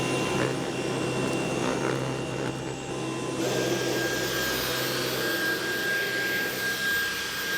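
A vacuum cleaner hoovers cat fur from a carpet, giving a steady, loud whining drone with a slight shift in pitch partway through as it moves, with no talking.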